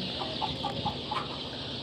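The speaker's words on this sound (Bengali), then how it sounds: "এই যে দেখুন মুরগির ফার্মটা তোমাদের দেখিয়ে দিচ্ছি" Chickens at a village poultry farm cluck in a quick run of four or five short calls over a constant hum of background noise, fairly close.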